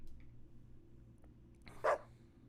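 A single short dog bark in the video game Deadly Premonition 2, a brief yelp over a quiet low game-ambience hum.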